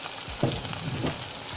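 Okra and sarputi fish fry together in a covered pan, giving a steady close sizzle with a few soft bumps and scrapes.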